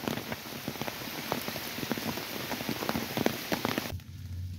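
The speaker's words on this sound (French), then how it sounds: "Et il tombe vraiment des grosses gouttes là." Heavy rain with big drops pelting down on a muddy forest path, a dense steady patter of close, irregular drop impacts that cuts off abruptly near the end.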